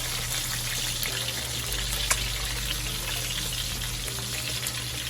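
A delicate sea bass fillet, just flipped, fries in a hot pan with a loud, continuous close-up sizzle and one brief tick partway through.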